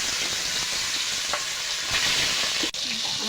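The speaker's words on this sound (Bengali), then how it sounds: "বাকি মাছগুলো আমি ভেজে নেব।" Ilish fish fries in hot oil in a kadai, giving a steady, dense sizzle with crackling pops throughout. It is close and fairly loud, and no one speaks.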